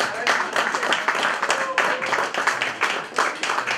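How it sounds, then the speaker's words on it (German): Lively applause from an audience at a carnival farewell ceremony, steady rapid clapping fairly close, with faint voices mixed in beneath. "Ein Applaus für die Gemeinde."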